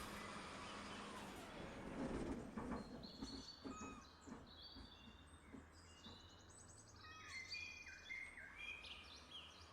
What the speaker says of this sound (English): I don't know if those are the original bird sounds or not.